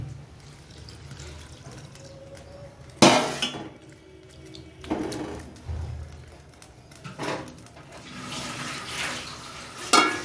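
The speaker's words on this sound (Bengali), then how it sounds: "আর একটু জল লাগবে, দিয়ে দিচ্ছি আর একটু জল।" Water poured into a frying pan of parboiling magur fish and gourd tips, heard as several short splashing bursts a couple of seconds apart, with faint kitchen clatter between them.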